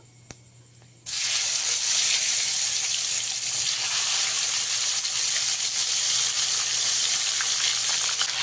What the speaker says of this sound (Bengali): এবারে তেলের মধ্যে আমটাকে ভালো করে ভেজে নিতে হবে।